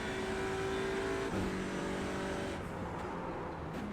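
An Audi RS 3 LMS TCR touring car in the iRacing sim at Red Bull Ring holds high revs, a steady buzzing engine drone whose pitch drops abruptly partway through, then settles lower and continues.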